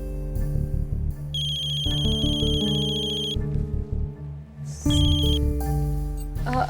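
A phone ringtone plays a bright, repeating electronic melody with layered tones, steady and fairly loud throughout, with no voices.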